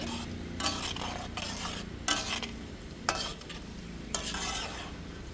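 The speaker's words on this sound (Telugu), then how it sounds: "తాలింపు అయితే మంచిగా ఫ్రై అయిపోయింది" A tempering of dried red chillies and tender curry leaves sizzles steadily in a pan for a field bean pickle, with sharp scraping strokes of stirring about once a second over the frying hiss.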